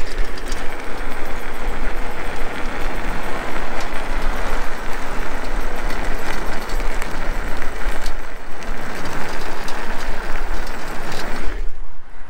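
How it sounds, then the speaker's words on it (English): A DYU V1 electric scooter ridden at speed over pavement produces a loud, constant rush of wind buffeting and tire roar, a continuous close-up noise that cuts off sharply at the end. "I'm hearing more wind noise and the sound of the tires over the pavement than the motor itself."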